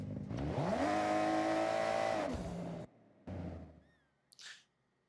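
A Nissan GT-R in Forza Horizon revs with a loud, rising engine note, holds briefly, then drops away, followed by a shorter burst of engine noise and a faint high squeal before falling quiet.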